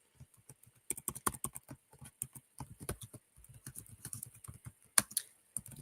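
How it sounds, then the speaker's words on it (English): Someone types on a computer keyboard close by, a soft, irregular clatter of keystrokes in quick bursts with short pauses, and no voices. "I'm going to type that in right now."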